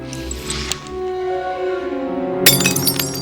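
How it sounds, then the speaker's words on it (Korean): A toy is smashed in a film scene: a sudden crashing break with clattering debris bursts out near the end over a sustained musical score. "실수로 작은 딸 아만다의 장난감을 박살낸 후엔"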